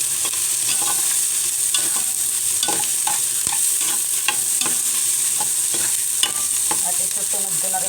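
Onion and garlic sautéing in a hot pan for a Filipino home-cooked beef skin dish, a steady loud sizzle with repeated scraping stirs of a utensil against the pan throughout.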